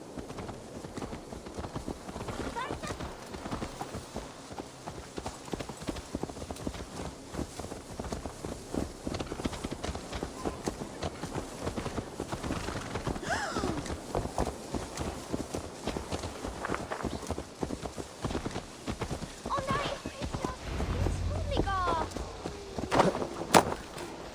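Quiet rhythmic horse hoofbeats clip-clop along steadily in Assassin's Creed Valhala, under soft background ambience, with faint game sound effects and chimes.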